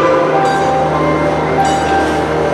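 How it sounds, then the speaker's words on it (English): A North Pole Express train rolls along railroad tracks at an amusement park decorated for the holidays, producing a steady, continuous rumble with faint clinking and a high hiss running throughout, with no speech. "You hear the train coming."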